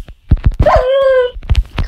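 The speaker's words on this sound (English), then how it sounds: "There's a lot of dogs." A wolf in the Minecraft video game whimpers and yips, a close, loud, drawn-out whine between sharp, quick yelps.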